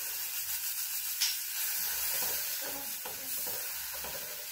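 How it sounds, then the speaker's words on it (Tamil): Dosa batter spread on a hot tawa gives a continuous loud sizzle and hiss with faint scraping underneath, close and steady throughout. "நல்லா ஹீட் ஆகிட்டு இப்போ நம்ம தோசை ஊற்றிடலாம்"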